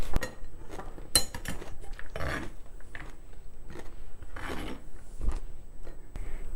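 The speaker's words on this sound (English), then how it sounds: "Now I'm chopping the carrots. I've got 2 carrots here, and I'm cutting them very thinly." Knife cutting two carrots into thin slices, a series of irregular close scraping and chopping strokes on a board with clinks of utensils between them.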